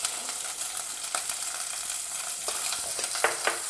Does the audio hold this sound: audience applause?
no